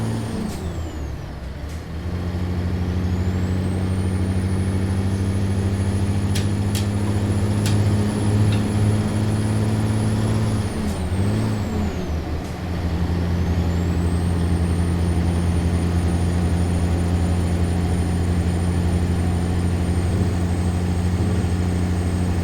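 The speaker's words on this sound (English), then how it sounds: "So I'll shut up and you can just listen to the engine" A heavy dump truck engine in American Truck Simulator drones steadily at a low rumble, with a brief dip and a sharp hiss of released air before the engine settles back into its steady hum.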